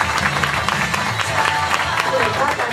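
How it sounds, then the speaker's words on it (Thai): A roomful of people applauds together, with dense, continuous clapping and crowd noise and voices talking over it. "ปรบมือทุกคนในห้องแล้ว"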